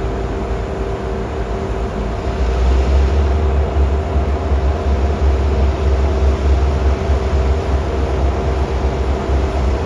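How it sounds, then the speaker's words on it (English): A commuter rail train on the Lowell line in Massachusetts rolls past, a steady low rumble and rail roar that swells after a few seconds and holds loud for the rest of the clip. "Once those commuter rail trains roll by, DOBO pulls off the Lowell line into the maze of interlockings."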